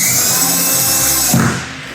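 A power drill drives a screw into a holiday decoration, whirring steadily at close range for about a second and a half, then the motor winds down.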